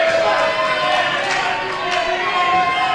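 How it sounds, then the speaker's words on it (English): A large wrestling event crowd roars continuously, a loud sustained wash of cheering and shouting with a few brief swells, with no voices standing out. "Listen to that crowd"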